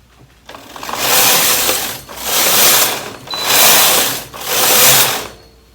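Brother KH930/KH940 knitting machine carriage swept across four rows of single-bed jacquard, each pass a loud, close mechanical whirring rush lasting about a second, separated by brief pauses, with no talking.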